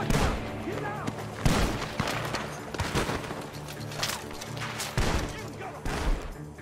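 Gunfire in Red Dead Redemption 2, with shots fired from a barn: a steady run of sharp, loud reports at irregular intervals, several heavier cracks standing out over a dense, noisy game backdrop.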